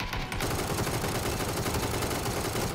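Rapid automatic gunfire from PUBG: Battlegrounds on the Deston map, a dense, loud, continuous burst of shots that carries on without a break for the whole stretch.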